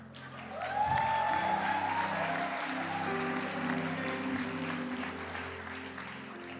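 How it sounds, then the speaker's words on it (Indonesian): A church congregation claps hands during a service, a dense, sustained patter of applause that swells near the start and holds steady over a sustained low musical drone, moderately distant with no talking. "Kalian tepuk tangannya gak seru ah."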